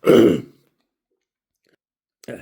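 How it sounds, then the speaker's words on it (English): A short harsh cough bursts out, then silence, followed by a second brief cough or throat clearing near the end. "I'm coughing at you there."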